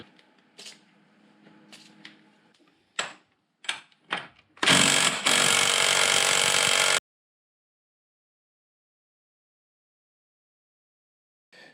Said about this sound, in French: il y a un copain qui m'a prêté une visseuse à choc, donc je vais essayer de le débloquer avec ça